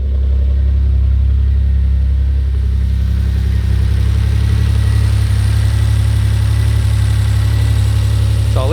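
A Maserati Biturbo engine idles steadily after a cold start, running on all cylinders with a deep, continuous low rumble and a slight cyclic surge early on, close and loud with no talking.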